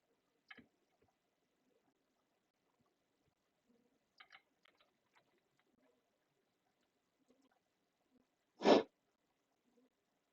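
A single sharp sneeze bursts out loudly near the end, after a few faint scattered noises in an otherwise quiet room.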